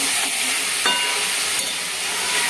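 Bombay duck (lote fish) cooks with spices in a wok, giving a loud, continuous hiss and sizzle with a couple of brief stirring clinks.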